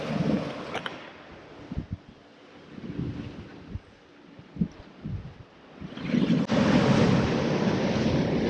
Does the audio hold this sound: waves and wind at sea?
yes